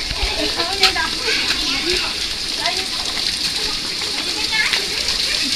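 A waterfall on Phu Quoc, Vietnam, gives a steady broadband rush of falling and splashing water, heard nearby beneath people talking, including a voice.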